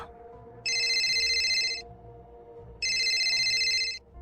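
A telephone rings twice in two long electronic bursts, separated by a short pause, loud and close with a faint hum underneath.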